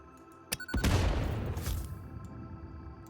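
Explosives detonating in Satisfactory: two sharp clicks, then a loud, close blast that rumbles and fades over about a second, followed by a smaller boom and a lingering tail.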